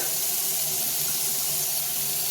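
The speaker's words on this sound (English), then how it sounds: "And we're going to add some hot water." Hot water runs from a kitchen tap into a pot for felting knitted items, a steady loud hissing gush with no break and no talking.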